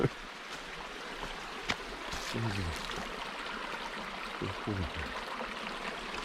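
Creek water trickles and flows quietly in a constant wash beside a trail bridge at the Quehanna Trail's Mineral Spring Area, with a couple of faint knocks and a voice murmuring briefly in the background.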